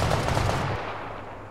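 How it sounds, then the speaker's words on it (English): Heavy machine gun fire in the video game Arma 3 rattles in a fast, dense burst, loud and close, then cuts off partway through and leaves a fading echo. No talk over it. "this is more of an MG. That's a heavy fire."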